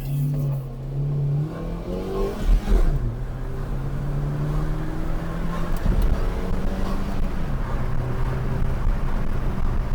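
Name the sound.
car driving and shifting up through the gears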